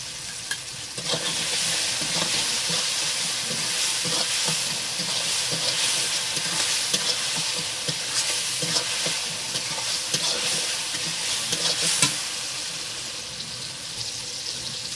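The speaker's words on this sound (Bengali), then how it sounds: "এরপর আমি এক চামচ রসুন বাটা দেবো" Close, steady sizzling of a spoonful of garlic paste frying in a pan, with continuous scraping and clinking of a spoon stirring throughout, no voices.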